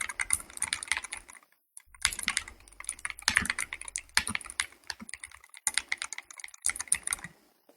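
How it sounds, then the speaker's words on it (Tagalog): Bursts of rapid typing on a computer keyboard, close and crisp, in several clusters separated by short pauses, with no voices. "Keyboard."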